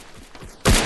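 Gunfire in an online FPS shooter: faint distant shots patter before a loud, sudden burst erupts close up and sustains to the end.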